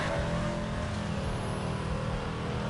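A car engine in Burnout Paradise approaching from behind, a steady broadband engine roar with revving holding constant throughout, fairly loud with no voices.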